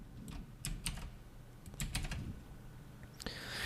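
Quick, close clicks of keys being typed on a computer keyboard come in short bursts, soft and dry over a quiet background.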